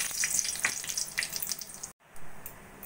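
Cumin seeds and bay leaves frying in hot oil in a wok give a bright, steady crackling sizzle up close, cut by a brief dropout near the end before the sizzle resumes.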